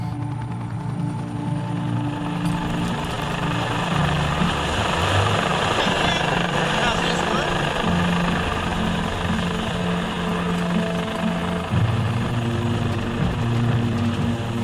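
Rescue helicopter hovering while a load is winched up, its rotor and engine roaring steadily and close throughout with a constant heavy drone.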